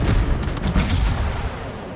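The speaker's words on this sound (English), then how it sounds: "Another armor-piercing bomb salvo coming in." Armor-piercing bomb salvo explosions in the World of Warships naval video game, a dense, loud volley of booming blasts and rumbling impacts that overlap and roll on continuously.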